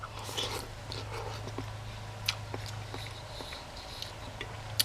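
Close, quiet chewing of soft cold-soaked ramen noodles eaten from a canteen cup, scattered small mouth clicks and bites over a steady low hum, with no talking.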